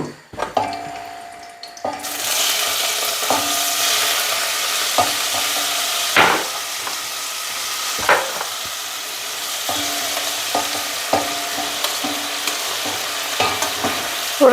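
Boiled food, drained and now fried, sizzles loudly in a pan, broken by repeated clanks and scrapes of stirring at irregular intervals, with no talking.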